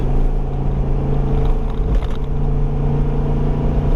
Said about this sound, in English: This gas engine sounds so good under load